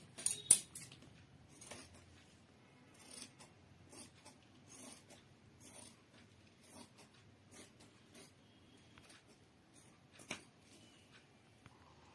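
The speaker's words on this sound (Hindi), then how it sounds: "अब मैं इसकी कटिंग कर दूंगी" Scissors snipping through cloth while a flat round collar is cut out by hand, giving faint, sparse clicks and crisp snips with quiet gaps and a louder cut near the end.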